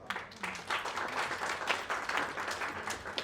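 Audience applause at a film trailer and music launch event, a dense steady wash of many hands clapping throughout, moderately loud and even, with no speech over it.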